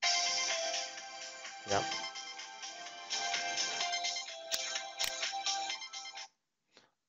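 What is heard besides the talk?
phone ringing tone of a test call through a FreePBX/Asterisk system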